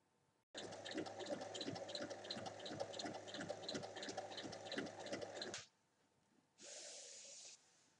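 A sewing machine runs steadily for about five seconds as it stitches the long seam of a fabric drawstring bag with an oval base, its needle thumping quickly and evenly up close before it stops, followed by a brief soft hiss.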